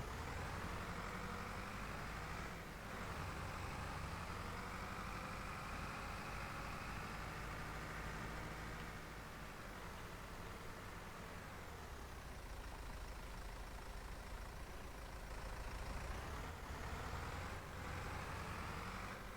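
A tractor engine idles and runs steadily in a historical farming video game, a continuous low rumble that stays loud and constant with no talk over it.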